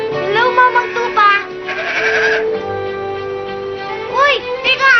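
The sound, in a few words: sheep bleating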